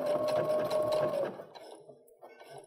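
A sewing machine stitching a reverse appliqué snowflake pillow runs in a loud, close, rapid whir, then stops about halfway, leaving a quieter mechanical rattle and faint handling sounds.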